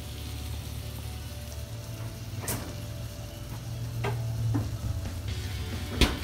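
Chopped onion going into hot oil in a pan, giving a steady low sizzle and crackle throughout with a few sharp clinks and stirring clatters of utensil against pan.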